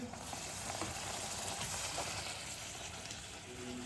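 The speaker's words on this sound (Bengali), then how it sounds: "তোমাদের দাদা ভাই লুচি সেকছে আর আমি বেলে দিচ্ছি" Luchi, the puffed Bengali flatbread, frying in hot oil with a steady broadband sizzle that runs evenly through the whole stretch, with faint kitchen clatter and a voice or two in the background.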